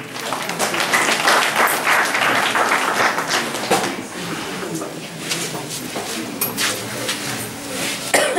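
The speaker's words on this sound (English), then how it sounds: "Let us clap for them." Audience clapping for students at a community event in Igulu, Uganda, a broad wash of applause lasting throughout, fairly loud and steady with a few louder claps near the end.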